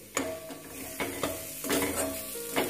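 Mughlai paratha stuffing with biscuit crumbs is stirred in a wok over gentle sizzling, with several sharp scrapes and taps of the spatula against the pan, close and unaccompanied by talk.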